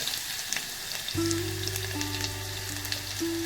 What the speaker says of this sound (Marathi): राई फुलायला लागलं की मग आपण त्यामध्ये जिरं टाकणार